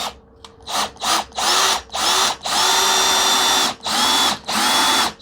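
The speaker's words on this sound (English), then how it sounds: "Excuse me for the loud noise of my drill, if it sounds really loud." A power drill whirs loudly in repeated bursts, stopping and restarting as it drives a screw into a pilot hole on a custom Kydex press, with short pauses between runs.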